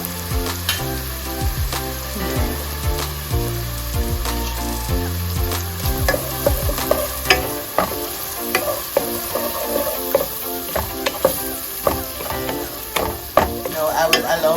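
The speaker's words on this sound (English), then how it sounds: "now I will allow my curry to cook for about 2 to 3 minutes" Curry with turmeric bubbles and sizzles in a pot, with steady frying hiss and repeated scraping strokes from a spoon stirring throughout, close and fairly loud, and no talking.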